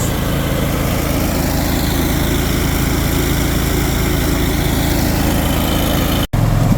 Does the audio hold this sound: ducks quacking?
no